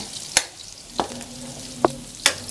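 Food frying in a pan on a home stove, stirred with a utensil in four sharp scraping strokes over a low steady sizzle, close and alone.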